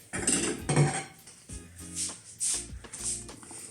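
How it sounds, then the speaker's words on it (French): A ceramic plate is set down over salted cabbage being prepared for kimchi, giving a few clinking, rattling knocks of dishware, close and distinct with short gaps between. "On va mettre une assiette par-dessus."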